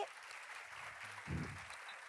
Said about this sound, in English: So a strong round of applause for Aitor.